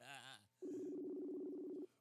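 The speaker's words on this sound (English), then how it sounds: "listening to Jeff breathe through his nose while dialing a phone." Telephone dialing tone, a steady two-pitch electronic beep held for over a second after a brief hum, fairly faint and alone.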